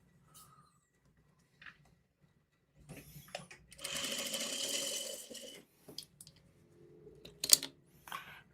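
A sewing machine stitches small four-patch quilt squares, running in a steady whir for a couple of seconds amid quieter handling clicks and a sharp tap.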